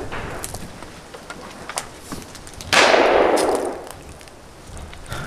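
A single loud shotgun blast rings out at a clay shooting range, its sharp crack trailing into a long echoing decay, with quieter clicks and handling noises before it.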